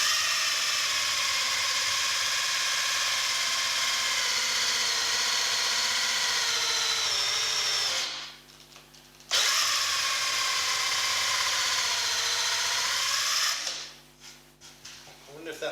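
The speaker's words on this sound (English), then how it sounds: "I think actually this hole cutter has gone a bit blunt" A power drill spins a blunt hole cutter through wood for a long steady whining run, stops briefly, then bores again at a close, loud level.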